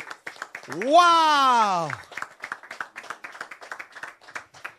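A church congregation claps in a quick, even rhythm of sharp hand strikes that carries on steadily, after a single loud voiced exclamation near the start.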